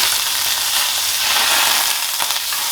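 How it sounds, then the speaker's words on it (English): Butter melting and sizzling in a hot pan before steak goes in, a loud, dense, continuous crackling fry heard close up with no talking. "Now we got our butter. I'm gonna melt this all around."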